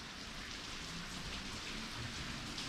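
Steady rain falls around a house with an ICF build and a front porch, a dense, even hiss of drops hitting surfaces that continues without a break and carries no voices.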